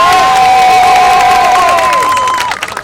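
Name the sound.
crowd cheering and applauding at an outdoor rally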